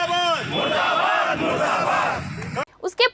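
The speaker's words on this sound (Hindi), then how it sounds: "जगदलपुर चौक में आदेश की प्रतियां जलाई गई एवं विरोध प्रदर्शन के नारे लगाए गए।" A crowd of protesters at Jagdalpur Chowk, where copies of an order were burned, shouts slogans in unison, a loud massed roar of voices that breaks off into a few shorter separate shouts.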